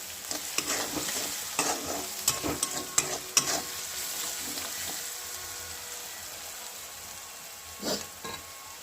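Salted pav bhaji vegetables mashed and cooked in a pan, a soft sizzle under irregular bursts of clattering, scraping utensil strokes, close by, tapering off into quieter simmering with one last scrape.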